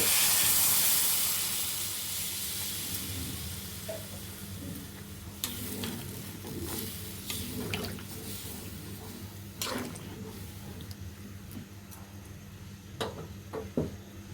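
Curry of taro and bighead fish sizzles as liquid is poured in: a loud hissing burst at first that settles into a quieter bubbling simmer, with clinks and scrapes of stirring near the end.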